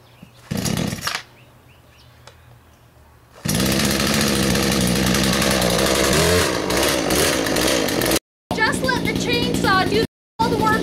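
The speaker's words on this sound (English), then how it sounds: "Place the chainsaw between them and just push down slowly." A chainsaw revs loudly and continuously while cutting, its engine roaring with shifting pitch as it bites through, after a brief quieter start with someone talking.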